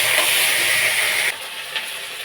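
Tomato, ginger paste and chili paste sizzle loudly in a hot pan, a steady bright frying hiss that drops to a softer simmer partway through, with a brief flare of sizzle near the end.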